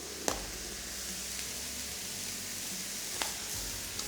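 Onions frying and caramelizing in a pan with brown sugar and salt, giving a steady, even sizzle with a few faint pops and stirring clicks.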